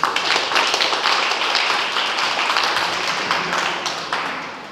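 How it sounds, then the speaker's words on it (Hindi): Audience applause fills a hall, steady dense clapping from many hands sustained throughout, fairly loud and close, with no talk over it. "एक बार इस बात पे ताली बज सकती है"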